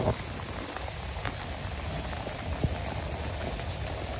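Steady rain falls over a Bangladesh village, a dense, even hiss of drops on surfaces with occasional louder splatters, close and continuous with no voices.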